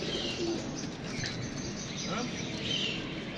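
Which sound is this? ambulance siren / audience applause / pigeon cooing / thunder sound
pigeon cooing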